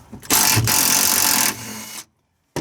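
A power tool removing two 14mm bolts in the trunk of an Acura Integra gives a loud, steady mechanical whir that lasts about a second, drops lower, stops, and then starts again briefly.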